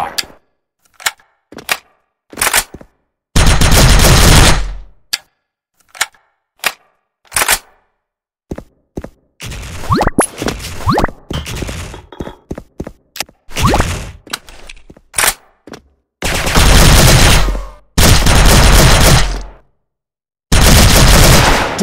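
Rapid bursts of M4A1 rifle fire in the mobile shooter Bullet Force, loud and close, with long sustained volleys alternating with short single and double shots across the round.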